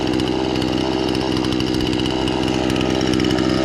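Husqvarna chainsaw cutting up wood at a beach campsite, running loud and close with a steady, continuous engine buzz and no pauses.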